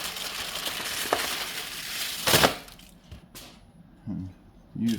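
Meat sizzling on an outdoor grill in a snowy winter creek bottom, a steady frying hiss that swells with a sharp burst as a piece is flipped, then quieter crackle with brief scraping handling sounds.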